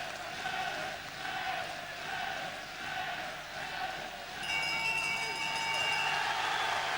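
Boxing crowd cheering a new Welsh middleweight champion, a sustained roar of many voices with surging swells, under a commentator's talk.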